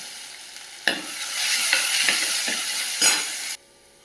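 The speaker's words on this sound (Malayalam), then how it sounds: "ഒരു കാൽ ടീസ്പൂൺ കടുക് എല്ലാം കൂടി തിളച്ചിട്ടിരിക്കുന്നു പച്ചമണം മാറുന്ന വരെയാണ് ഇളക്കി കൊടുക്കാം" Mustard seeds sizzle in hot oil as they are stirred, with a steady crackling fry broken by a few sharp scrapes of the spoon, close and fairly loud, then quieting abruptly.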